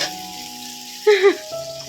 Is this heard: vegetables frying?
yes